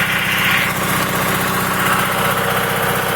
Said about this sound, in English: I haven't shifted this power takeoff on, so we're going to do it in idle and see what happens.